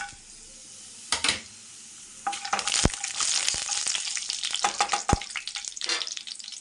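Whole spices hit hot oil for tempering a chicken gravy, bursting into a loud, close sizzle after a quiet start, with sharp crackles and pops continuing steadily and no speech.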